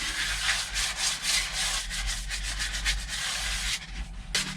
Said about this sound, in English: I got 150 grit sandpaper that I'm just going to put a little texture to it